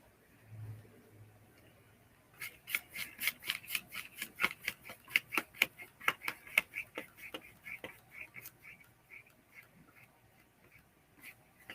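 A paintbrush being rinsed out in water, giving a steady run of rapid swishing and tapping strokes, fairly close and moderately loud, after a brief quiet start.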